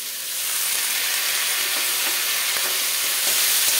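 Malabar spinach (pui shak) sizzling in a hot frying pan with spices for a hilsa fish head dish, a steady bright hiss that swells slightly as the greens go in, close and continuous with no talking.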